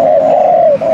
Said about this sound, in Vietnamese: nghe tiếng là nó đổ gù thôi